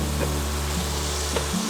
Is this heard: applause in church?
no